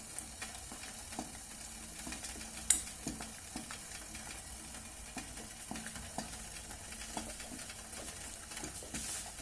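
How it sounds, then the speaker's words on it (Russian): A melted wax, rosin and turpentine mixture is stirred in a small saucepan on a stove, soft scraping strokes and a faint simmer, with one sharp clink near the start. "Перемешаю слегка."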